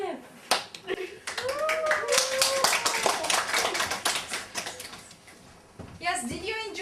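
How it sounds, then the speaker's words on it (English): A group of people clap together in a brief burst of applause that then tapers off, with voices sounding over and after the clapping. "Let's clap."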